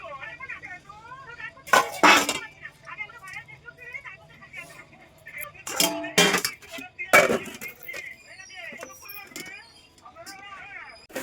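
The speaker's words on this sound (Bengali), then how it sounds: "সব বাসন কুসন মাজা হয়ে গেছে, এখন শুধু এগুলো তুলতে হবে" Freshly washed dishes, pots and pans are picked up and stacked, giving several loud clanks and clatters in short bursts, with a lively background of chirping and other ambient noise between them.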